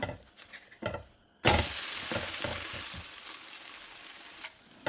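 Instant dosa sizzling on a hot pan as it is flipped, with a ghee drizzle: a few soft taps and scrapes, then a loud, steady frying hiss close up that fades slightly near the end.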